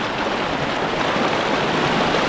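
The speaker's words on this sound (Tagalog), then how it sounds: "Ano, lakas ng agos." A strong river current rushes steadily after rain, a dense, continuous broadband roar of turbulent water close by with no break for the whole stretch.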